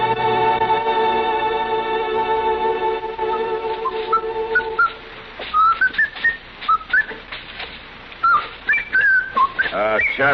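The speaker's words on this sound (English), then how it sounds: "if you insist on whistling, would you mind doing it outside?" A held musical chord fades into a person whistling a wandering tune in short phrases, clear and close, with soft noises between notes.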